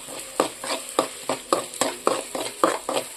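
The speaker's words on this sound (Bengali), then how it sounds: "মশলাটা তখন একটু হালকা করে ভেজে নিই" Spice paste frying in a pan for a fish curry, stirred in an even rhythm: about six regular scraping strokes over a soft sizzle, heard up close with no talking.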